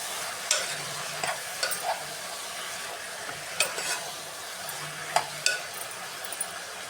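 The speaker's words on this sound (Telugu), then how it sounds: "ఇలా మధ్య మధ్యలో ఒకసారి తీసి కలుపుకుంటూ ఉండాలి" Brinjal and potato curry being stirred in a frying pan: a steady, quiet sizzle with a series of soft spoon scrapes and clinks against the pan, spaced irregularly.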